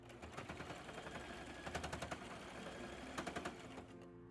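A sewing machine stitches ruffles onto the top and bottom of a blue dress, its needle running in steady rapid bursts with brief surges in speed, close and alone without talk.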